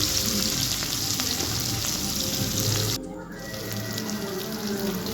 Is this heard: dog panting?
no